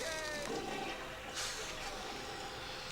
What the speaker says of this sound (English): Don't cry about flushing the toilet.